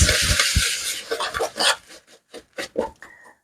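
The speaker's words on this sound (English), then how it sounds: "I'm just going to give this a little mix." A spoon works brown sugar in a bowl for oat bars, giving scraping, clinking strokes that start dense and loud and then break into short separate bursts, with no talking.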